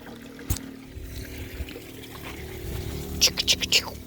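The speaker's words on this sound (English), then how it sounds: "she hits the switch, which throws on our 12-volt pump that's installed in the side-by-side. And then we have water flowing" A 12-volt pump installed in a side-by-side on an off-grid Alaskan summer day sends water flowing out in a quiet, low trickle, with a sharp knock early on and a quick run of splashy bursts near the end.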